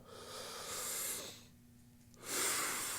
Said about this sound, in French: faites prendre une grande respiration